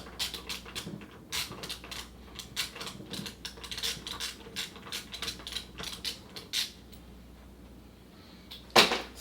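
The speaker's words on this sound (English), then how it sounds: "I'm not going to tighten them too much just by hand." Screws being hand-tightened on a OneWheel GT electric board: a run of small, close metallic clicks and ratcheting ticks in uneven bursts, fairly quiet, ending with one sharper clack.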